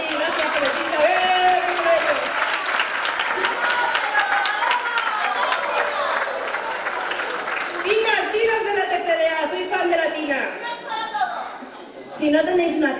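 An audience at a tuna competition in Dos Hermanas, 2018, laughs and applauds in a dense, continuous wash of clapping and chuckling, with voices and musical tones woven through it, swelling again near the end.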